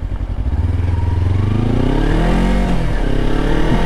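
Kawasaki Versys X 300 motorcycle on a ride, its engine droning loud and close with a steady rising pitch, suggesting acceleration, and a rough clattering texture throughout, no talking.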